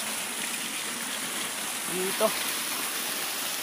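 Water flowing at Naglusong falls, a steady broad hiss of rushing stream water in the background, with a brief spoken word from someone nearby.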